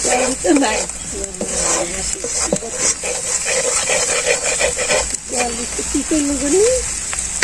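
Spices frying in oil in a pan in a Bangladeshi village kitchen, a steady close sizzle with scraping stirs, while a voice talks over it.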